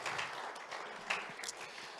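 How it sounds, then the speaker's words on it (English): Applause rises from a church congregation, a soft, continuous patter of many hands clapping heard at a distance for a couple of seconds. "So why don't you give these guys a round of applause?"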